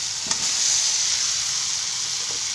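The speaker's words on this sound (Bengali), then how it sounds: "এইখানে আমি ভালো করে মশলাটাকে কষিয়ে নিয়েছি।" Spice paste sautéing in oil in a pan, a dense continuous hiss of frying with a brief stir or scrape near the start, steady and fairly close, no voices.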